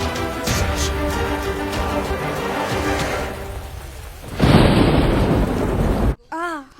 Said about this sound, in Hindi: घर जाओ, बारिश आने वाली है, भीग जाओगे।